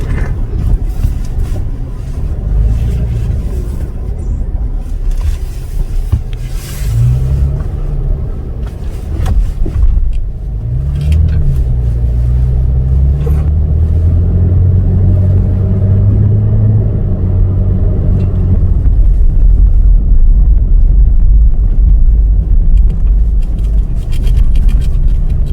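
Off-road vehicle dune bashing, its engine a steady loud low rumble throughout with rising and falling revs as it climbs and slides over sand, no talk over it.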